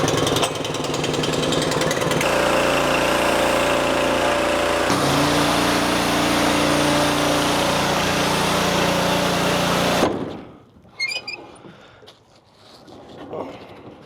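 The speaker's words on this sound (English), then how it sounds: "engine switch on. Look at this." An old engine that had not been run in a while starts up and runs with a loud, harsh, steady clatter for about ten seconds, then cuts off, leaving faint rattles and movement afterward.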